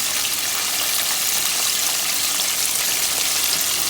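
Hot fried chicken being poured out of a frying pot produces a loud, continuous hissing sizzle with an even, unbroken texture, like rushing oil, holding at a steady level throughout.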